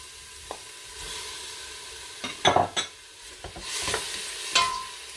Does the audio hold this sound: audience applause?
no